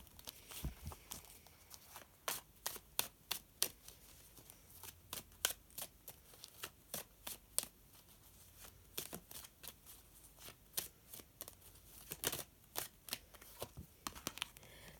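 Tarot cards being shuffled by hand, soft quiet riffling and slapping in irregular bursts, close up and faint, with no talking.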